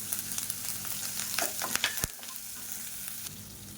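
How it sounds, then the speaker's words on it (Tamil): Finely chopped green chillies sauté in hot oil, a continuous close sizzle with a few sharp crackles and spoon stirs, one hard clack partway through, and no voices. "பச்சை மிளகா பொடியாக கட் பண்ணியிருக்கேன் இப்போ எண்ணெயில் போட்டு வதக்கிக்கலாம்"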